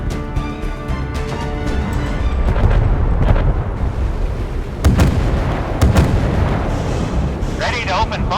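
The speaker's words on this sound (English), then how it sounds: "Ready to open fire on the enemy." Naval guns firing in the warship game Force of Warships, with heavy booming shots, the loudest bursts spaced a second or so apart, over continuous rumbling and a voice speaking in the middle.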